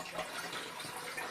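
A cup of water poured into a mixture of vinegar for a homemade non-toxic cleaner, a brief, steady splashing hiss with no voices.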